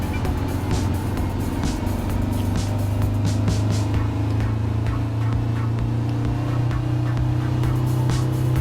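A race car engine in Gran Turismo Sport, a rigged van at Le Mans, drones steadily and loudly throughout with a low sustained tone and small shifts in pitch as it holds speed.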